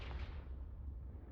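A Confringo fire-blast spell goes off in Hogwarts Legacy, a deep rumbling burst that booms at the start and then rolls on as a sustained low roar with no voices over it.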